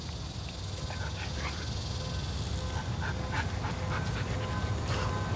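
A big dog pants steadily at close range while cooling off in a pond on a hot South Texas summer day, with quick, rhythmic breaths and a faint whimper or two over a noisy outdoor background.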